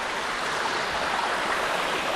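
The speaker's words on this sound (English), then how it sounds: "you see this beck here" Near Ruddy Beck, a Lake District stream running toward Crummock Water, rushes over stones in a steady, broad hiss of flowing water, close and constant with no voices.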